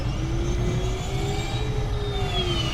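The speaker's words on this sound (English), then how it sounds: "Let's go ahead and drop our landing gear." Grumman Goose in a flight simulator game, its engines droning steadily as landing gear lowers, a continuous mid-loud hum with slowly gliding tones and no distinct mechanical clunk standing out.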